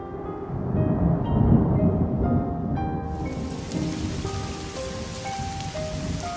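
Rain falls steadily in a storm scene for an audio story, with a dull thunder rumble early on, heard under soft background music and no talk.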